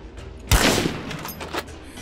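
Gunfire in the zombie-survival video game State of Decay 2: a sharp shot burst lands near the half-second mark, then fainter follow-up shots echo through the remaining game ambience, with no talking.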